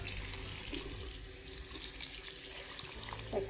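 Tap water running steadily into a sink while socks are washed, a continuous close splashing hiss with small shifts as the flow is disturbed, no talking.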